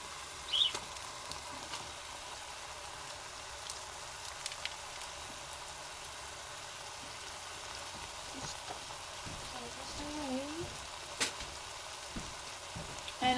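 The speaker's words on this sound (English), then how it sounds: "I'm going to go ahead and put my sausage in." Sausage meat browns in a pan for a spaghetti meat sauce, a faint, steady sizzle with occasional soft stirring scrapes over quiet background hum.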